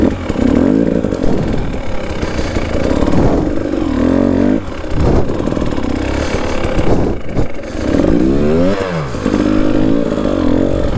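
A new KTM 300 TPI two-stroke dirt bike on a break-in ride, its engine close and loud, repeatedly revving up and easing off in rising and falling surges.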